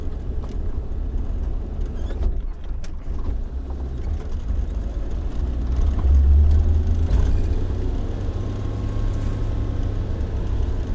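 A Suzuki SJ 4x4 drives along a rural road, its engine droning steadily with a low rumble and road noise that swells slightly midway, heard from inside the vehicle with no talking.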